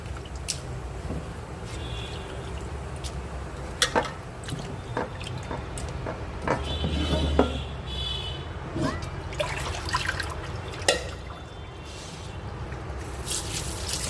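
Chicken lifted out of a bowl of vinegar water drips and splashes back, irregular wet drips and trickles with occasional clatters over a low background hum, close by and without talk.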